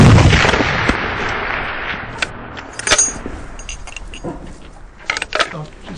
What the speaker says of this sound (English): They'd already scoped the target, so all I had to do was aim and fire.